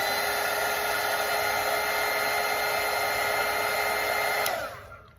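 A hair dryer blows steadily and loudly on fresh watercolour paint, a constant broadband whoosh with a faint high whine that cuts off near the end and fades away.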